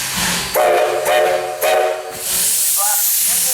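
A steam locomotive on a Florida heritage railroad lets out several loud, close whistle blasts, each a sustained tone, then shifts into a broad, steady hiss of escaping steam.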